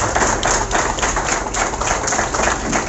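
Sustained, dense clapping from a large audience at a business meeting at a DP centre in Varanasi fills the room loudly and evenly for about three seconds, with no voices audible.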